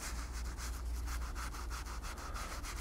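Tan highlight finish being rubbed into leather holster parts, a steady rhythmic scrubbing with regular back-and-forth strokes, close and fairly quiet over a low background hum.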